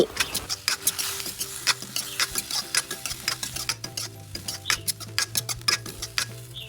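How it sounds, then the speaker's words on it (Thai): Red and green chilies stir-fried in a pan for a beef liver dish: a steady run of close, rhythmic scraping taps from a utensil tossing the mix, with no voices. "แล้วก็ใส่พริกชี้ฟ้าแดงเขียว ผัดคลุกเคล้าเล็กน้อย"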